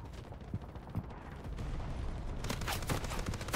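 Artillery barrage landing in the Delta Force shooter game, a muffled run of distant explosions and gunfire that thickens into a louder rumbling roar midway, with scattered sharp cracks.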